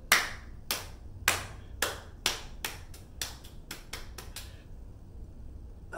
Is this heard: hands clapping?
yes